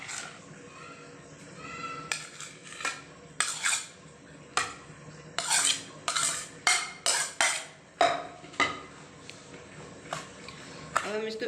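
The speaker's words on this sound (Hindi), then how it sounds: "तो आलूओं को भी इसमें मिक्स करती हूँ मैं" A spoon stirs mashed potatoes into a cooked chicken mixture in a pot, giving a close series of scraping and clinking strokes in an uneven rhythm, with a few quiet breaks between them.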